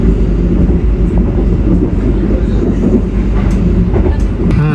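Argo Wilis executive-class stainless steel passenger train heard from inside the carriage, a steady loud low rumble of wheels on rails with faint rhythmic clicks throughout.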